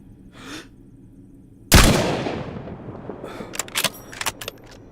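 A single loud rifle shot in DayZ on the Deer Isle map cracks sharply and rolls off in a long echoing tail, followed by a few quieter clicks and clatters of handling.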